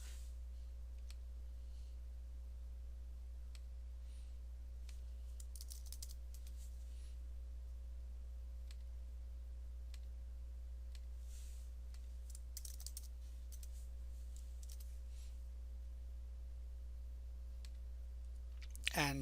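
Typing on a computer keyboard during a Windows 10 setup, sparse and faint key clicks in short clusters over a steady low electrical hum.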